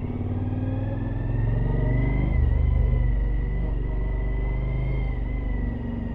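A car engine in the video game GTA V rumbles steadily at a loud, close idle with a faint whine, holding a near-constant drone throughout.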